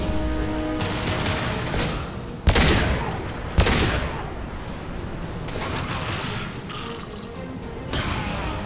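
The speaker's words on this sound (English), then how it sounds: "Firing an impact shot." An impact shot fired in the video game Mass Effect 2: sharp weapon blasts ring out amid ongoing combat, with two especially loud cracks standing out and rattling, crashing battle noise continuing around them.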